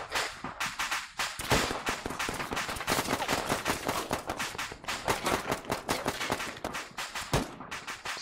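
Dense, continuous automatic gunfire in an ARMA 3 firefight, with rapid close shots layered over each other in a steady crackling barrage.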